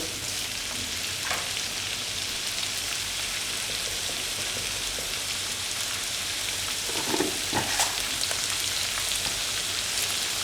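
Paneer and mixed vegetables fry in a pan with a steady, even sizzle and crackle, close and continuous throughout, with a few brief clinks of stirring near the end.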